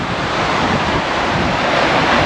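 Surf breaks steadily on a clear-water Tasmanian beach, a loud continuous wash of waves mixed with gusting wind buffeting the microphone, with no voices.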